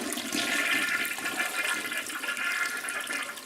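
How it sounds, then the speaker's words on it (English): A household toilet flushes with a continuous rush and swirl of water, loud and close, lasting the whole few seconds without any voices. "Next thing you want to do is flush your toilet."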